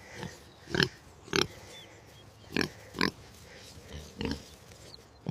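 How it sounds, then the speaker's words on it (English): A pig grunts and squeals in a string of short, loud bursts, about six evenly spaced calls close to the microphone, with quiet pauses between them. "Good pig, here's a treat."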